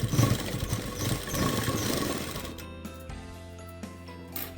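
A sewing machine stitches fabric for a drawstring potli pouch, giving a dense, steady mechanical whir for a couple of seconds before it drops to a quieter hum with light tapping.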